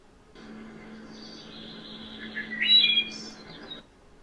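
A bird sings a short, clear phrase of flute-like whistled notes, rising to a brighter flourish near the end, heard alone against a quiet background.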